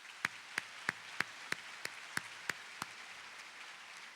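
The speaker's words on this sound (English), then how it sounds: "Let's give Miss Barrett a nice round of applause" Applause at the 2013 Port Huron High School commencement for Miss Barrett: a soft, diffuse crowd clapping underneath a few crisp, evenly spaced claps from one pair of hands close by.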